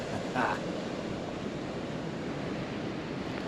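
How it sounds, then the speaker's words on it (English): Ocean waves roar steadily at a Pacific coast beach by a roadside campground, a continuous broad wash of surf with a faint brief sound near the start. "Listen to that water roar"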